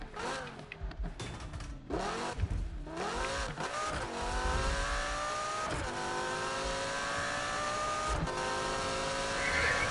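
An upgraded car in Need for Speed accelerates hard, its engine climbing through several rising revs with sharp gear shifts, then holding a loud sustained high-pitched whine as speed builds.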